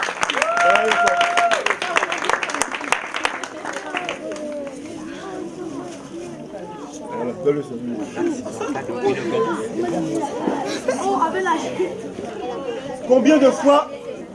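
Orphaned children at a thanksgiving day gathering in Gabon clap briefly, and then loud chatter and overlapping children's voices take over and continue throughout.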